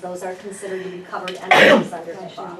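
A single sharp sneeze bursts out mid-sentence during a spoken HIPAA training talk, louder than the surrounding speech.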